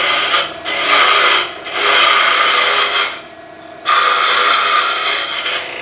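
A lathe tool hollows out a wooden Christmas ornament, giving a steady bright scraping rasp in long sustained bursts with brief pauses between cuts, close and loud with no talking.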